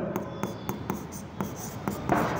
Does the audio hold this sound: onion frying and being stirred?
no